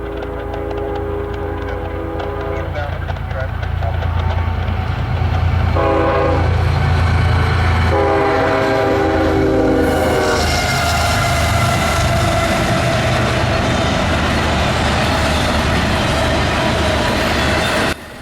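A freight train rolls past loudly and close, its horn sounding in several long blasts over the steady roar and rumble of wheels and wagons.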